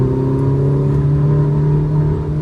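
A Ferrari 849 Testarossa accelerates at full throttle on the Sonoma Raceway track, its engine a loud, close, sustained roar with a strong steady harmonic drone that builds slightly, with no voices over it.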